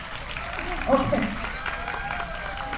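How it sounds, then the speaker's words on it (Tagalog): A university audience at a philosophy day event gives a short burst of applause, moderately loud and fairly close, while a host talks over the clapping. "Pumalakpak naman nga muna kayo."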